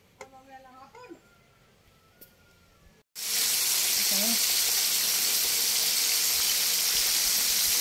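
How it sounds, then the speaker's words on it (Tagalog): Chicken pieces fry in hot oil, a loud, steady, broadband sizzle that bursts in suddenly and holds for several seconds, with a brief squeak over it and quieter handling noises before. "nagpiprito na po tayo"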